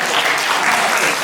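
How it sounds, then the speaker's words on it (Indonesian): A burst of applause from a group, steady dense clapping filling the whole moment. "Oke, tepuk tangan untuk saya."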